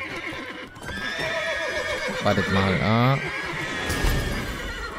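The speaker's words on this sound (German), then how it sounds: "Oh, die Pferde, was ist los?" Horses in The Witcher 3 whinny loudly with a rising-and-falling neigh near the middle, over a steady game soundscape with faint hoof clops, while someone speaks German over it.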